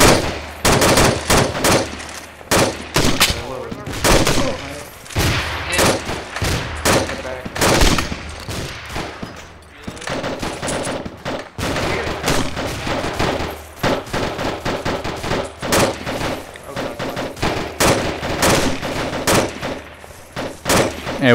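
Sustained video-game gunfire laying down a base of fire on Spetz island, with dense overlapping automatic bursts and single shots rattling almost nonstop for about twenty seconds, loud and close, with brief gaps between volleys.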